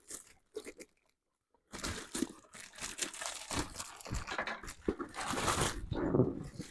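Scissors snip and crinkle through plastic headphone packaging for a Skullcandy headset case, close-up crunching and crackling in a dense, irregular run after a few quiet initial rustles.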